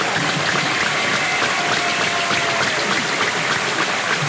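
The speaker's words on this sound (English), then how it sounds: "Please give these seniors a round of applause" A 2021 high school graduation audience applauds the seniors with steady, dense clapping that fills the hall at an even, sustained loudness from start to finish.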